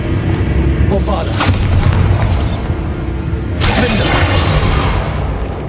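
Spell explosions from the Bombarda charm in Hogwarts Legacy boom loudly in two heavy bursts with whooshing debris over dense game sound, while a voice speaks under the blasts.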